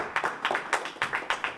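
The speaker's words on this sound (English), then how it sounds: "Clap some more." An audience at a downtown public safety center anniversary celebration claps in a steady, rhythmic pattern of about six crisp beats, fairly quiet and somewhat distant.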